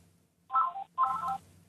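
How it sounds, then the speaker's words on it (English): Two short bursts of telephone ringing or dialing tones, each about a third of a second with a brief gap between, fairly clear against a quiet background during a broadcast interview. "Oh, is the phone ringing?"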